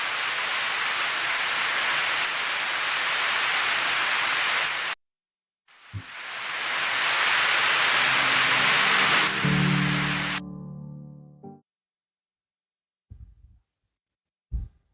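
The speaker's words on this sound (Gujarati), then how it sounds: "જો વરસાદ ચાલુ થઈ ગયો ભાઈ ધીમે ધીમે." Rain falling at Galteshwar Mahadev temple makes a steady broadband hiss, cut off by a short gap and then resuming before it drops away. A few soft knocks and thuds follow in near silence.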